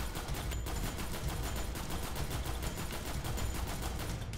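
Rapid automatic gunfire in the Prison Simulator video game, a dense continuous burst of shots rattling loudly and evenly for several seconds with one brief gap near the start.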